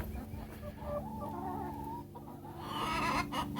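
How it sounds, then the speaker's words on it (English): Hens clucking inside an urban homestead chicken coop, a steady stream of close, overlapping clucks and soft calls from several birds with no talking. "And that is the chicken coop."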